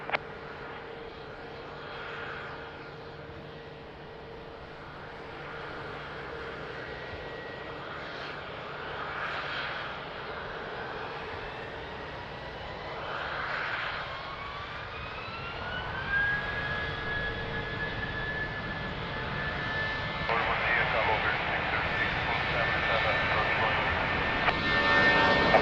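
A fixed-wing airliner takes off from runway 20 at Lisbon Airport, a broad, steady jet engine roar that builds and rises in pitch toward the end, with a climbing tonal whine over the rumble.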